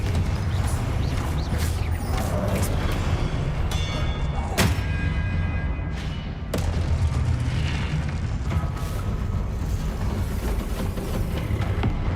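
Confringo spell explosions in the video game Hogwarts Legacy: dense, loud booming bursts and thuds with sharp cracks, layered over continuous battle rumble.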